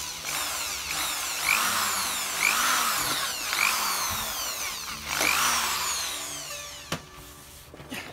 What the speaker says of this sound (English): we're going to drill this side of the mast for the 10mm spacer that goes in the mast in this position here